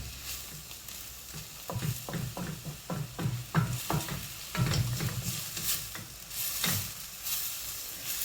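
Carrots and chicken are stir-fried in a pan, giving a continuous sizzle broken by a quick series of clicking scrapes and knocks as the food is tossed and stirred. No one speaks.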